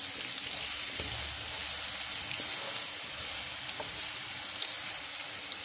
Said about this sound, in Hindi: मैंने ऑयल में ऑनियन डाल के इसको फ्राई किया है, इसको सिर्फ 2 से 3 मिनट्स के लिए फ्राई करेंगे।